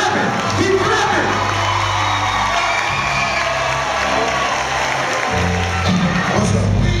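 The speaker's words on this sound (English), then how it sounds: "Y'all gotta keep clapping! Keep clapping!" A live comedy show audience at a college campus event claps and cheers loudly, a dense roar of applause, whoops and shouts filling the space without pause.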